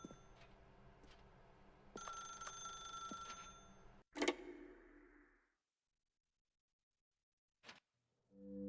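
A telephone bell rings in a single brief burst, then a sharp click or knock follows. Everything is quiet and distant and sits over a faint hum, and no one speaks.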